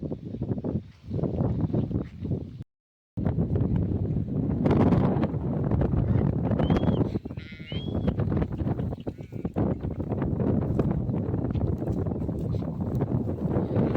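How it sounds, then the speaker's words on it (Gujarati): Strong wind buffets the microphone in loud, gusty rumbles on a rural farm, with faint goat bleats in the background. "હા બહુ પવન છે."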